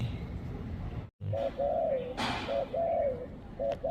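A spotted dove used as a decoy bird coos repeatedly in short, rhythmic phrases, close and clear against a low background hum, with a brief dropout just before the calls begin.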